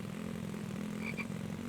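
A single frog in The Infected croaks twice in quick succession, short and fairly close, over a steady low ambient drone.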